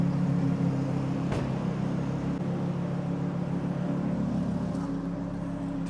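A Lamborghini engine idles steadily with a low, even rumble and drone, with no revving, one faint click partway through.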